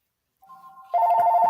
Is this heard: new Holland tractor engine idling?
no